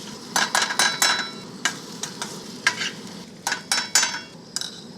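Vegetables and peas frying in a pan for a turmeric curry, stirred with repeated scraping strokes in uneven bursts over a low steady sizzle, close and fairly loud with no voices.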